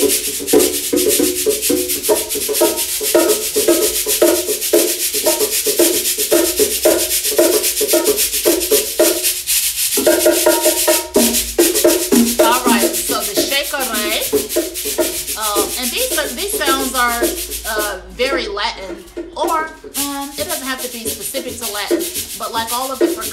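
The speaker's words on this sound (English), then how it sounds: "The shakare, that is the instrument that makes the little scratchy sound." A shekere is shaken and scraped in a steady rhythmic pattern, giving a loud, close, dry rattling scratch that continues throughout, with a brief pause and some talk mixed in.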